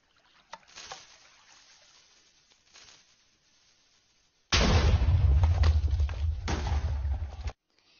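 A TNT cannon in the Minecraft video game fires, giving a loud, sustained blast-like roar of about three seconds after several faint earlier clicks and rustles.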